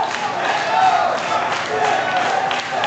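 A wrestling crowd at a Texas Contenders Series tag match roars and cheers continuously, a dense wash of voices that swells and dips slightly over a few seconds.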